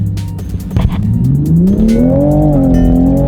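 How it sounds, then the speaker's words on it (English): A loud 2020 Toyota Supra engine holds at high revs on launch control, then launches with a rising, surging roar as it accelerates hard, close by. "launch control in a Supra."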